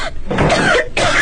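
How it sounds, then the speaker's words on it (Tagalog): A single person coughs, a short rough burst of a couple of throaty coughs close to the microphone, heard alone without speech. "Inubo ka?"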